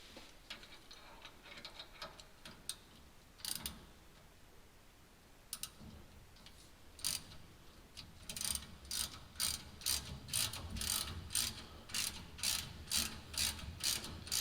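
Ratcheting wrench work tightening brake bolts on an OBS Chevrolet Silverado during a rear disc brake conversion, with scattered clicks early, then a steady, close run of rapid ratchet clicks alone.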